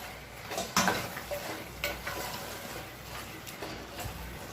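Half a kilo of chicken stirred and fried in a pot for biryani, with a steady sizzle and sharp scraping clatters of the spoon at uneven intervals.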